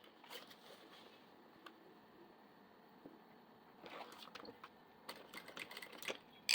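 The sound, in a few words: sewing machine stitching fabric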